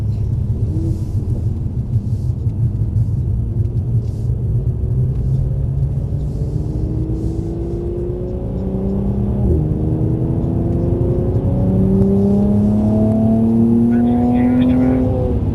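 Mercedes CLS coupe driving with a low engine rumble that rises in pitch through steady acceleration, then eases off, heard from inside the car under an instructor's voice.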